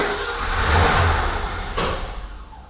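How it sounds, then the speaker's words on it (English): A BMW E21 323i engine flooded on old fuel cranks, then catches and fires into a rough rising rev, with a sharp backfire bang near the end, heard close and loud. "It started on the old fuel. It started, backfired, but started."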